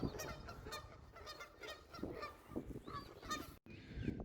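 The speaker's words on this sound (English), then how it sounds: "All right, geese." Geese honk repeatedly in a noisy flock outdoors, overlapping calls close by at moderate loudness, with no talking.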